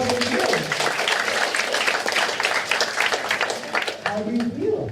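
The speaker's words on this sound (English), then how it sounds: "A round of applause for her, please" An audience at an inspirational talk applauds, loud clapping filling the room while voices speak over it, easing off near the end.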